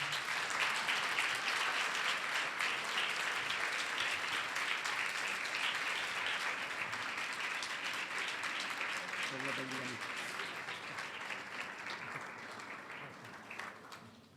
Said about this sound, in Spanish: Podéis dar un aplauso si queréis.